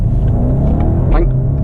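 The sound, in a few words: BMW 750i xDrive V8 engine revving and exhaust on upshift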